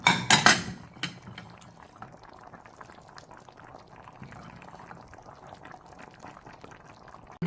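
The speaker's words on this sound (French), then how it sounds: "moi je vais venir rajouter mon gombo râpé à l'intérieur. Ainsi que mon gombo découpé." Grated and cut okra drops into a simmering oil-based okra sauce with a loud splash and clatter at first, then settles into a steady, close bubbling simmer with faint utensil taps.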